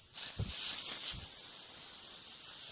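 Pressurized air escaping from a punctured tire during plugging, a steady close hiss throughout with two dull low knocks near the start.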